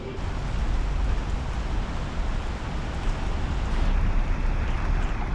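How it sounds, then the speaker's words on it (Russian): Heavy rain pours steadily in the city of Nizhny Novgorod, a dense, even hiss filling the scene at moderate level with no speech. "Сегодня весь день почти дождь поливает так хорошенечко."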